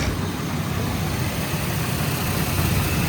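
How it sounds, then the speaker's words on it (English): Electric radiator fans in the engine bay of a 1996-2005 Chevy S10/GMC Sonoma truck, converted to electric fans, running with a steady, loud broadband whoosh and engine hum throughout, no talking. "You see how these fans are running?"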